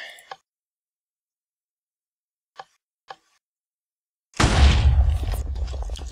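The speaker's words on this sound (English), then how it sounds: "There, done. Cannon built. Fire." A Minecraft cannon fires: a deep, loud blast erupts after a few seconds of near silence and a couple of faint clicks, then rumbles on with sustained noisy roar.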